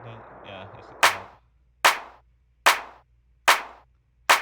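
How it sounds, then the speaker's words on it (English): A clap sample in an FL Studio beat strikes five times at an even, steady pace. Each hit is sharp and loud and decays quickly, following a brief soft low-pitched intro. "That's a clap, right? Isn't it? Yeah, it's a clap."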